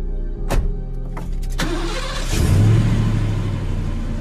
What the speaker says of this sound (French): Je parle du moteur, je voudrais que tu le mettes en route.